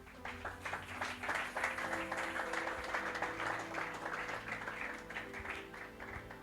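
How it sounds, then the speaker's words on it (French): A church congregation bursts into sustained, dense applause that fills the whole stretch, loud and close, gathered to acclaim the Lord at an evening worship service. "Est-ce qu'on peut acclamer le Seigneur?"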